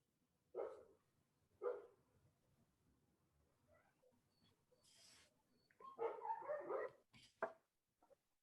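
Several dogs bark in short separate bursts, fairly close, with quieter yips and whimpers between them and near-silence around them, all outdoors.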